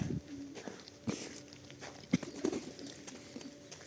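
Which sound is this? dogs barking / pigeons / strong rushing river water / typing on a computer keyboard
pigeons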